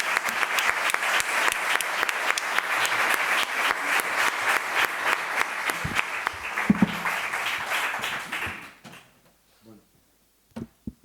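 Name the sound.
audience applause welcoming a speaker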